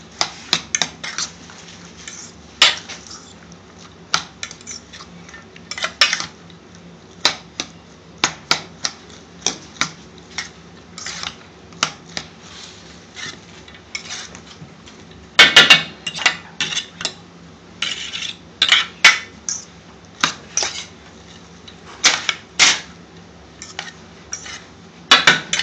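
A spoon mixes an onion, cucumber and tomato salad in a bowl, making irregular clinks and scrapes in quick bursts with short pauses; close and fairly loud, with no voices.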